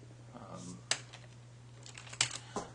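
Keystrokes on a Mac computer keyboard, a few scattered clicks with two sharper taps standing out over a steady low hum, fairly close and alone without talk.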